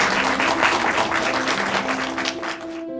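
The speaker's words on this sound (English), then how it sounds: "would you all mind putting your hands together to welcome all our lovely carers?" Audience applause welcoming carers at a celebration day, a steady, dense wash of clapping from a crowd that holds for about three seconds and then begins to fade.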